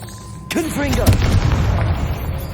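A Confringo fire spell in Hogwarts Legacy cracks out as a sudden loud blast, followed by a deep rumbling boom. A voice shouts over the blast.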